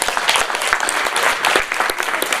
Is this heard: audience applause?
yes